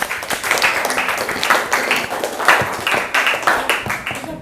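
Classroom audience in a teacher-training session claps for a student named Atalia, a steady patter of many hands at close range lasting several seconds with slight rises and falls.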